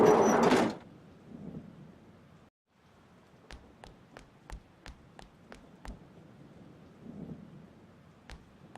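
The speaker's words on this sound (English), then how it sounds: "It's raining." Thunder and rain in a video game: a sharp, loud thunderclap opens, then a soft, steady rain hiss continues beneath a run of light, evenly spaced clicks.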